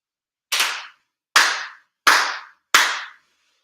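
Four crisp, evenly spaced ritual hand claps at a Konkō grand ceremony, each a sharp close strike with a short ringing decay into silence.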